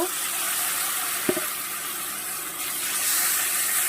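Water is poured into a pan of frying lote fish masala, making a continuous, fairly loud hissing wash with a brief clink partway through. No voices are heard.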